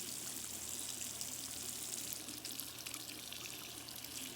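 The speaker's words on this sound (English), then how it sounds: "you can run water like this and rinse them" Tap water runs in a steady, soft hiss into a sink, rinsing paintbrushes, splashing lightly as it flows, with faint shifts in the stream and no voices.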